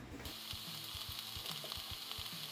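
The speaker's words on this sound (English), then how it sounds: "And fry them in the pan." Pasta and onion frying in a pan, a steady hiss of sizzling oil with regular soft scrapes and knocks of stirring at roughly half-second intervals, close up and with no talking.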